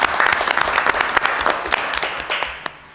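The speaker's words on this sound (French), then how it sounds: "Donc, petite main d'applaudissement." Applause at a municipal council meeting, a dense crowd of clapping hands that carries on steadily and fairly loudly before tapering off near the end.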